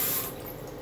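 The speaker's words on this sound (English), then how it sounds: "I'm going to squeeze it down at the bottom and leave some of the water at the top." Water squeezed from a shaving brush before lathering a Parker 78R shave, a brief close splash and trickle that fades quickly into a soft wet dribble.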